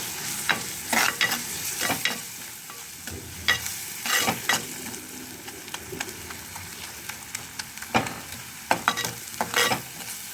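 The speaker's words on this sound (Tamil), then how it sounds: "கொஞ்சம் லைட் அப்படி வதக்கி விட்டுட்டு" Spices are sautéed with turmeric and salt in a new clay pot for a sardine curry, a low sizzle under repeated scraping stirs that land in uneven bursts.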